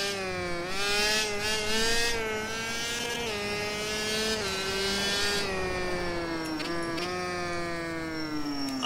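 A modern two-stroke motorcycle engine revving, a loud close buzzy whine with many harmonics that rises and dips as the throttle is blipped, running continuously with no speech.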